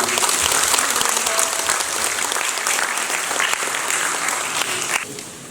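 Audience applause for a visiting lawmaker at a citizens' association general meeting and awards ceremony in Ansan, a dense, steady roar of many hands clapping that carries on evenly and eases slightly at the end.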